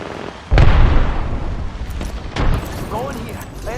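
A grenade goes off in the Apex Legends battle royale shooter: one loud, close blast with deep low rumble, then a rolling tail and scattered crackling debris. Voices are faintly present underneath.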